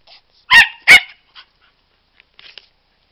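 A dog gives two sharp, loud barks close by, followed by a few faint, brief yips and rustles before it goes quiet.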